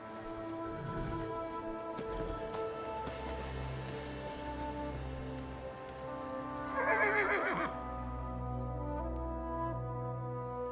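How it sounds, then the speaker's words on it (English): Horses in Elder Scrolls Online whinny and neigh over a steady musical game soundtrack, with a louder, prominent neigh near the end and light hoof clip-clop beneath. "Kasura has agreed to let us borrow her horses."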